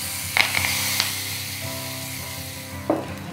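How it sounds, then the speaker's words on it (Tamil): Hot tempering poured over chayote kootu sizzles continuously up close, with a few sharp clinks of a metal ladle or pan punctuating the frying hiss. "இது மாதிரி தாளித்து கொட்டதுக்கப்புறம்"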